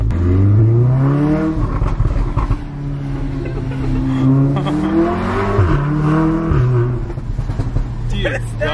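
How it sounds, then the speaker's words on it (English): A Mk7 VW Golf R with an APR downpipe and a pops-and-bangs map revs up and down, its exhaust crackling and popping in sharp bursts close by, while people talk excitedly over it. "like a pop, but exhaust"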